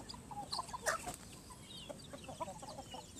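Native chickens on a farm give scattered soft clucks, a few nearby birds calling irregularly over a low ambient hum, with no speech.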